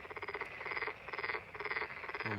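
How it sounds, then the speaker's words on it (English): Toads croak in a steady pulsing chorus, loud and close and heard alone, in rhythmic waves that swell and fade several times. "These toads are so freaking long."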